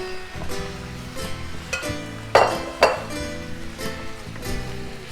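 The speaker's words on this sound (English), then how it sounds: "Give it a little mix if you wouldn't mind, please." A spoon working through basmati rice in a pan for a one-pan lemon chicken dish, with scraping, soft clinks and two sharper metallic knocks near the middle over a light sizzle.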